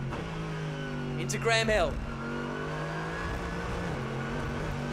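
GT race car in the Blancpain Sprint Series, heard from onboard at Brands Hatch: a steady, loud engine drone with layered harmonics, rising into a brief sharp rev swell, under continuous race commentary.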